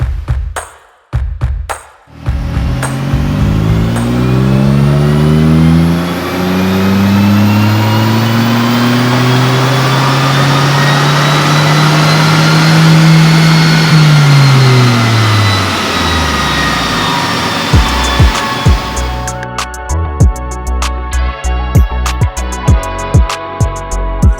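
A loud, roughly 200 hp Hyundai i20 N Line engine revs up steadily through a long pull on a dyno, pitch climbing and then falling away, followed by rough idling and crackles.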